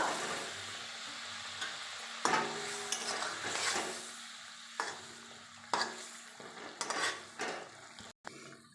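Spoon stirring a sour-spicy fish curry of small pond fish in a pan, with scraping strokes and clinks over a soft, steady sizzle. The strokes come in irregular bursts, close and moderately quiet, with no voices.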